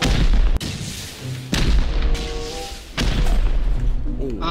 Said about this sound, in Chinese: RPG 直接开轰